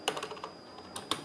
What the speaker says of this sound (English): So here I'm going to type